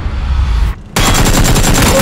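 Gunfire rattles in the battle royale game PUBG: loud, rapid, close shots in dense bursts. They pause briefly, then resume just as heavily.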